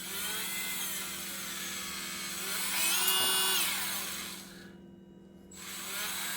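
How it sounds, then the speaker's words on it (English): A Wen 23072 cordless rotary tool spins at high speed as its fiber cutoff wheel grinds through a metal fastener, a steady close whine with a louder grinding stretch in the middle, a brief dip, then the motor running on. "Let's see what it takes to actually cut off this fastener here."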